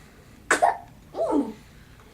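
Two short, sharp bursts of a sneeze or cough-like expulsion, close and fairly loud, separated by a pause in an otherwise quiet room.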